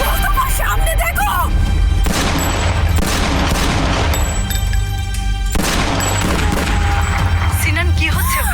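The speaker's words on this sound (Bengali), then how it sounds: "এটা কি গুলির শব্দ ছিল?" Gunfire in a dubbed Turkish TV drama: loud, sharp bangs and bursts fill the whole clip. They sit over a dense, continuous dramatic music and effects bed, with tense voices and shouting heard in between.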